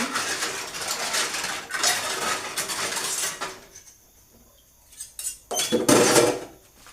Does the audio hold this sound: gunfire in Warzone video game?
no